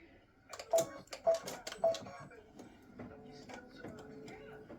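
An embroidery machine stitching an appliqué cut line on a hooped garment gives a run of sharp mechanical clicks and taps in its first half, then a steadier, quieter whir of stitching with faint background sound.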